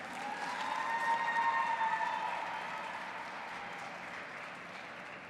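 Audience applause for a speaker at an interfaith convention: a sustained wash of clapping from a large crowd, swelling in the first seconds and then slowly tapering while continuing steadily.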